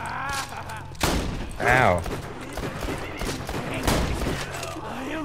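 Rapid gunfire in Borderlands 2, several sharp shots in quick succession mixed with game effects, heard under ongoing player chatter and a short exclamation.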